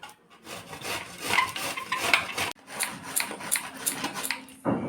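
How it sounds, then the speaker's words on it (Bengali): Peeled bottle gourd rubbed against a hand grater in steady, rapid rasping strokes, close and continuous with one brief break midway, with no talk over it. "এখন আমি কদ্দুকস করে নেব।"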